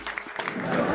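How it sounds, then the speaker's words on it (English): A live audience breaks into brief clapping at a comedy-style talk, a short burst of hands that swells quickly after a few scattered claps. "You guys are clapping for that?"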